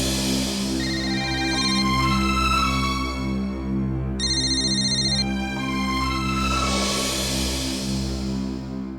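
A telephone ringtone plays loud and close, a bright repeating electronic melody of rising chimes that swells, pauses, then starts again, with no one talking over it.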